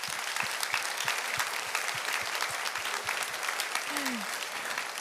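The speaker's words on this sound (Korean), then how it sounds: "우리 시간에 감사와 영광의 박수를 하나님께 올려드리도록 하겠습니다" A congregation applauds together during a Korean church's 74th-anniversary worship service, with dense, sustained clapping filling the room evenly from start to finish and a brief voice rising faintly underneath.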